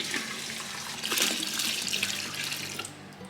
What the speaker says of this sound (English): Now I'm going to pour in my melted soap